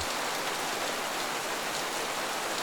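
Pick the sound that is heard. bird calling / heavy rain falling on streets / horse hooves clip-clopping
heavy rain falling on streets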